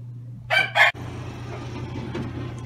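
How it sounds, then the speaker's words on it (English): Two short loud bursts of a rooster crowing close by, followed by a low steady hum and faint background clucking. "Okay, we're in Timothy's beautiful rooster suite."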